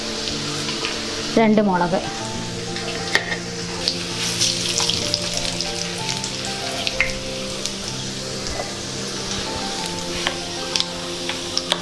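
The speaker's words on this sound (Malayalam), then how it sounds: "1 ഉള്ളി അരിഞ്ഞതാണ് ഇട്ട് കൊടുക്കുന്നത്. 1 തണ്ട് കറിവേപ്പില." Chopped shallots, curry leaves and chillies frying in hot oil in a pan for ulli chammanthi, giving a steady close crackling sizzle with small pops and a louder spit early on, as a voice briefly speaks.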